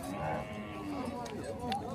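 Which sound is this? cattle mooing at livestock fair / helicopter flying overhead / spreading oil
cattle mooing at livestock fair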